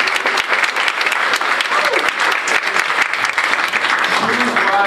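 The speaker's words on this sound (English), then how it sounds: "Michelle Jackson another round of applause" Dense, steady applause from a large crowd at an anniversary scholars reception, loud and continuous throughout with many overlapping claps and no pauses.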